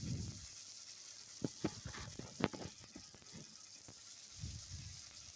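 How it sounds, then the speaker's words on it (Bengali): Okra frying in oil in a wok, with a soft sizzle under scattered clinks and scrapes of stirring, a few sharper taps in the middle, all fairly quiet and close. "ঢ্যাঁড়সগুলো একটু হালকা করে ভেজে নেব।"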